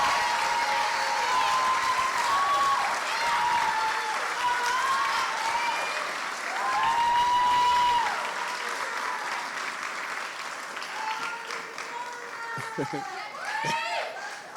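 A crowd claps steadily in sustained applause, loud and dense, tapering slightly toward the end with a few scattered voices mixed in.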